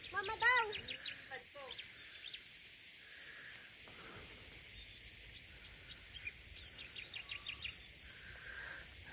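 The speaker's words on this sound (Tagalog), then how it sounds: "ang maririnig mo lang guys sa umaga is mga huni lang ng ibon" Birdsong in the morning countryside, with scattered chirps and calls, some fairly close and others distant, over a quiet rural background with a louder burst of calls at the start.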